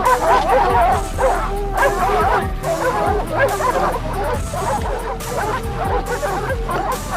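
Several dogs bark, yip and whimper close by in a continuous, agitated chorus while circling a cornered leopard; dense overlapping bursts fill the whole stretch without pause.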